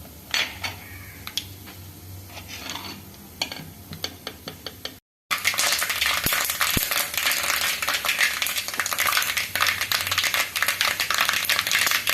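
Mustard seeds spluttering in hot coconut oil in a home kitchen, a rapid crackle of sharp pops close by, first sparse and then a dense continuous sizzle after a brief gap.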